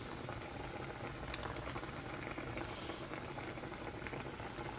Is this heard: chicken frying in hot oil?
yes